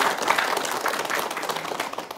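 A studio audience at an Islamic religious television programme in Denpasar, Bali, claps in steady, moderately loud applause that carries through the whole stretch.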